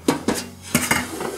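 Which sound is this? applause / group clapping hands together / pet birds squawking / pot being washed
pot being washed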